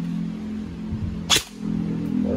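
A single sharp crack from an EC 855 airsoft rifle cuts through steady low background hum, followed by a short quiet dip before the hum returns.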